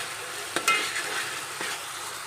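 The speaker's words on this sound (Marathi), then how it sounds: "आता यामध्ये आपण आलं लसूण पेस्ट ॲड करायची आहे आणि पुन्हा एकदा व्यवस्थित थोडं परतून घ्यायचं आहे।" Ginger garlic paste sautés with chickpeas in a pan, a soft continuous sizzle broken by a couple of brief scraping stirs, no talking.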